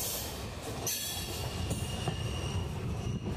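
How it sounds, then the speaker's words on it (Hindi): A train pulls into Kolayat railway station with a continuous rumble, rattling wheels and a high squeal of wheels on the rails, loud and close throughout. "ये ट्रेन आ चुकी है इसके 13वें हॉल्ट कोलायत रेलवे स्टेशन पर"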